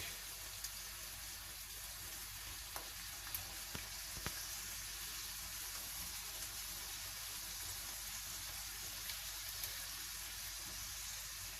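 Onion and small pieces of tomato fry in a pan, giving a faint, steady hiss and crackle that stays even throughout with no talk.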